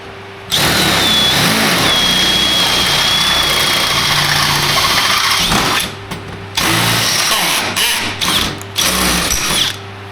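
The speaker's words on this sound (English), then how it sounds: "Now we're going to drill them." A power drill whirs loudly in several bursts, spinning up and cutting hinge holes for a removable boat deck, with short pauses between holes.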